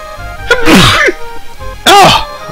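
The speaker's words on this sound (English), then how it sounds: "Uh oh. I gotta sneeze." A person gives two loud, close sneezes about a second apart, each a sharp burst with a rising and falling voiced tone, during a playthrough of the game Terranigma.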